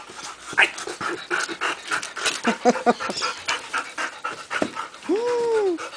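A nearby Labrador pants quickly and steadily, ending with a high whining squeal.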